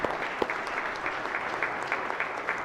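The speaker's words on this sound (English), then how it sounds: "that's worth a round of applause." Members in a state Senate chamber give a round of applause during a floor session, a fairly quiet, steady patter of many hands with a few sharper individual claps standing out, no speech over it.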